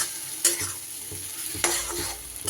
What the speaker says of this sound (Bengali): টমেটোটা কিন্তু আমি এখানে খুব গলা গলা করব না, একটু এরকম গোটা গোটা রেখেই কিন্তু কষিয়ে নেব।